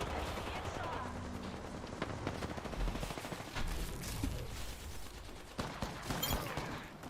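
Dense bursts of rapid automatic gunfire from the Apex Legends battle royale video game crackle through a busy, mid-loud game mix, with a voice talking over the action.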